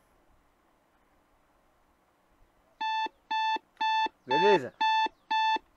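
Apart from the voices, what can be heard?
alarm clock ringing in video game My Summer Car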